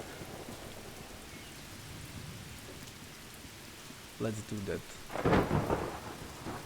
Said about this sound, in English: Running in the storm is not a good idea